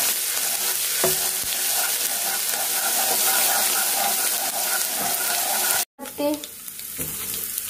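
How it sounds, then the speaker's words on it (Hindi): Cumin seeds and garlic roasting in hot oil for a bottle gourd and chana dal curry, a steady close sizzle and frying hiss with stirring, broken by a brief cut near the end. "जीरे को अच्छे से सेक लेंगे और लहसुन को भी।"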